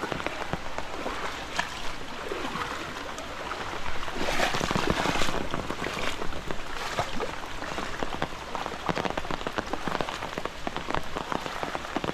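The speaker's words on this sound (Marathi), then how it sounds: "पहिलोच पाऊस पडलो आहे म्हणजे काल पडलो आणि आज पडलो पाऊस" The first monsoon rain in the Konkan drums steadily on surfaces, a dense continuous patter that swells slightly midway and holds close and even throughout, with no talking.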